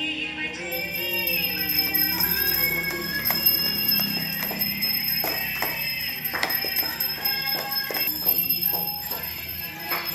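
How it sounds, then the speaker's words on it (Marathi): A bell rung during a Ganpati idol welcoming procession by a local mandal, sounding as repeated metallic strikes over a steady, dense crowd and music background, with no clear talk. "तू घंटी वाजव"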